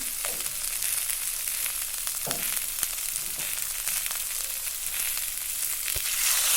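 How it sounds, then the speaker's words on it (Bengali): Turmeric, chilli powder and salt frying for a sour katla fish curry, a steady close sizzle with occasional stirring clicks and scrapes, alone without talk. "অল্প পরিমাণে জল দিয়ে ভালো করে নেড়ে ছেড়ে একটু কষে নেওয়া হবে"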